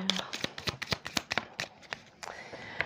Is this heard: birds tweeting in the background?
no